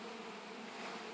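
Honey bees buzz over a hive frame, a dense, even hum at low level with no pauses.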